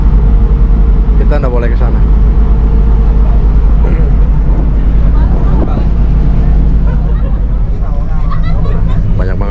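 A Pelni passenger ferry's engine room gives a loud, constant low machinery drone and rumble, close by, with a person speaking over it throughout.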